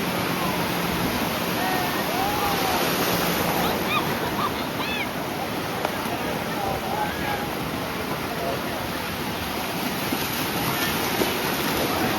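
Sea waves wash in at Ganpatipule beach on the Konkan coast as a constant, loud roar of surf with wind noise. People talk faintly over it.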